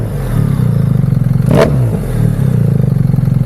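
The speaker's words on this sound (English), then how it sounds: "so let's give it a rev" A motorcycle with an Akrapovic titanium decat header exhaust and its valve open idles in a steady lumpy burble, then gives one sharp, loud rev that spikes and falls back to idle.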